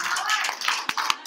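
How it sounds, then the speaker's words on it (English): A church congregation applauds children after a Christmas kids' ministry program, a dense patter of hands clapping steadily with scattered louder claps, close and fairly loud. "Can we give claps of praise for our kids?"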